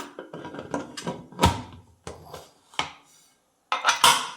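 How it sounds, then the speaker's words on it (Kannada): A pressure cooker lid is closed over a rice bath cooking with ghee, giving a series of close metallic clanks and clatters in separate bursts across a few seconds, with no talking. "ಕುಕ್ಕರ್ ಲಿಡ್ನ ಕ್ಲೋಸ್ ಮಾಡೋಣ."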